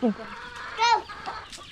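Chickens cluck in short, sharp bursts as they are chased around a rural yard, a couple of loud squawks standing out near the start and middle, with faint activity in between.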